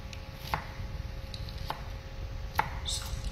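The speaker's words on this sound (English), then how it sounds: "After two division, go for a fine chopping." A knife finely chops onion on a board in a home kitchen, giving a few sparse, crisp taps spaced about a second apart over a low steady background hum.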